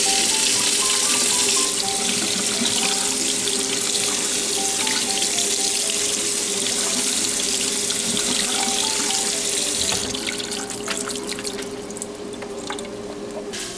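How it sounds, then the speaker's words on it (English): Water from a kitchen tap pours steadily over canned Great Northern beans being drained and rinsed in a sink, a close, continuous splashing hiss that thins out toward the end. "I'm going to open these and drain them and rinse them."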